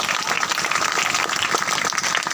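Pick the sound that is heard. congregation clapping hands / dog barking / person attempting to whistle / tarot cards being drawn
congregation clapping hands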